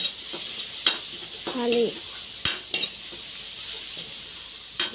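Rice masala is stir-fried in a pan in a village kitchen, with a soft ongoing sizzle punctuated by sharp metallic scrapes and clinks of a spoon at irregular intervals; a voice speaks one brief word.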